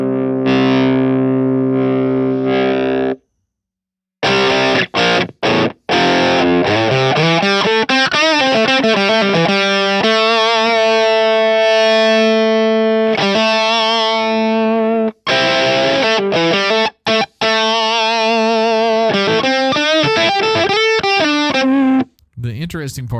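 Electric guitar played through heavy distortion from a Nembrini amp simulator app on iPad, sustained crunchy chords and bending notes with brief silent gaps between phrases.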